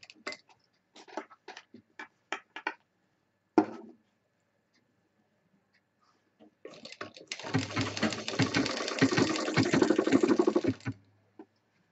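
Sewing machine stitching the bottom of a handbag closed, starting after several sharp taps and clicks and then running steadily for about four seconds up close.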